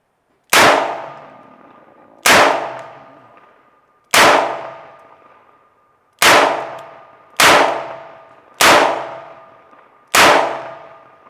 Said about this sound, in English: loose grip, firing at the same center target